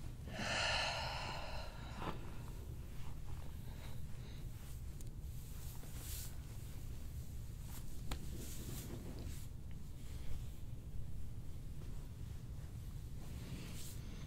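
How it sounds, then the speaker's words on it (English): A single deep breath drawn in near the microphone, a brief airy inhale at the start followed by quiet, faint breathy background with occasional soft puffs, no talking. "Again, deep breath in."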